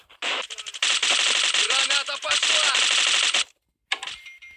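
Rapid automatic gunfire in the shooter game Bullet Force, dense bursts of loud rattling shots nearly continuous for several seconds, with a brief silence and a fainter burst at the end; a voice talks faintly underneath.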